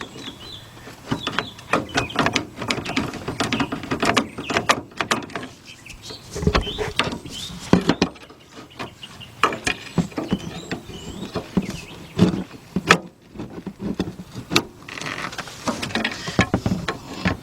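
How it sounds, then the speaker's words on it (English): A pry bar works loose the steering gear box on a 1977 Buick LeSabre, producing irregular metallic clanks, scrapes and knocks at close range, with quieter pauses between bursts of effort. "I'm gonna let my pry bar help me out with this."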